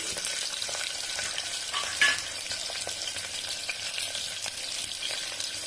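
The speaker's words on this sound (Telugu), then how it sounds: "ఆనియన్ ఎర్రగా అయ్యేంత వరకు ఈ పోపునైతే వేయించుకుందాం" Oil sizzles and crackles steadily in a pan as sliced onions, dried red chillies and seasoning spices fry, a bright continuous frying hiss with a brief clink of stirring, close by and without speech.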